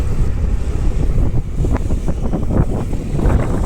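Heavy wind noise buffets the microphone while riding a motorbike, a loud continuous low roar with fluctuating gusts throughout and no talk.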